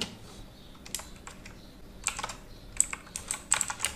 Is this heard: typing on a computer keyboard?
yes